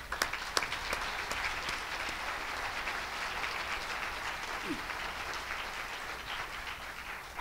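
Audience applause for children at a rights conference, a steady sustained wash of many hands clapping in a hall, moderately loud and continuous with a few sharper claps near the start.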